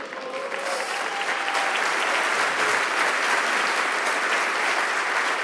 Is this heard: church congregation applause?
yes